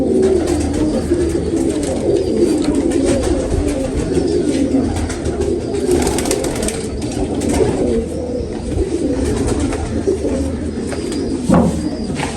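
A pigeon of the 222 breed coos repeatedly at close range, soft throaty calls rolling over a steady low background hum.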